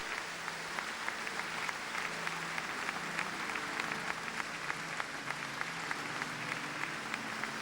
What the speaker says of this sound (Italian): sentiamo l'applauso che si leva qui dalla Basilica di San Paolo